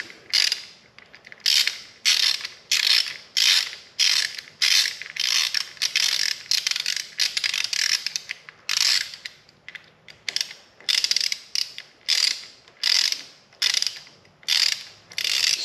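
A ratchet tightens bolts during an oil change on a 2022 Honda Grom, giving close, loud bursts of rapid clicking in a steady repeating rhythm with short pauses between strokes, and no talk.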